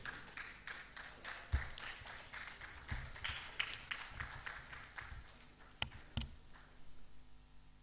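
Scattered applause from an audience welcoming a senior high school team at a national investment quiz competition, a steady patter of claps with a few sharper hits, fairly quiet and continuous throughout.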